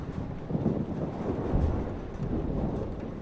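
A thunderstorm rolls through the video game Life is Strange, with a deep continuous rumble of thunder over heavy rain and wind noise, loud and unbroken.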